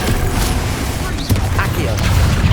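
Incendio and Confringo spells cast in combat in Hogwarts Legacy, a dense run of fiery blasts and crackling bursts layered over constant game noise and rumble, with a voice talking through it.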